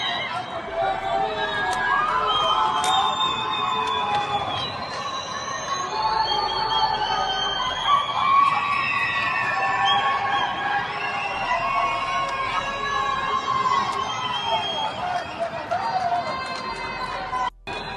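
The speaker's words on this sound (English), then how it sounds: "Footage from Caracas this morning after sunrise, showing people appearing to celebrate Maduro's capture." A crowd in Caracas celebrates in the morning, a dense mass of voices shouting and calling that stays loud and continuous throughout without a break.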